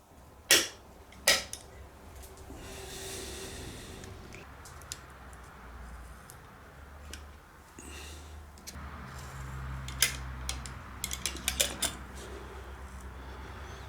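Spring clamps snapped onto freshly glued mitre joints in a small workshop, giving sharp clicks and creaks at irregular intervals: two loud snaps early, then a cluster of quicker clicks near the end over low room hum, with no talking.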